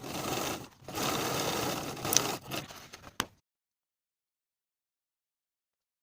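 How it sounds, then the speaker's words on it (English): A sewing machine runs steadily to stitch a dart on a lined vest, a close, even mechanical whir with a couple of brief pauses and a final click, then silence. "Then I'll sew the dart from the bottom to the top, leaving thread tails at the top"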